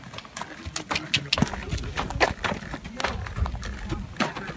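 A horse ridden on a big circle in an arena sets down irregular hoof thuds and clip-clops, moderately close, while an instructor's voice talks over the footfalls.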